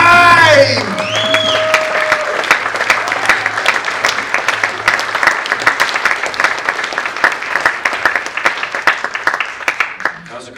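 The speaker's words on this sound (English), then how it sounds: "So make some noise, clap your hands. Let me hear you for Justin" A crowd at a poetry reading applauds and cheers as Justin Romine is introduced, with dense, steady clapping and a few whoops lasting about ten seconds, and a voice is heard briefly at the start.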